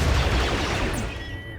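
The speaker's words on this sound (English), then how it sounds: "That turret, that was a crazy explosion." A turret explosion in the video game RimWorld, a loud burst of gunfire-like booms and rumbling blasts filling the short clip at close range before slowly fading.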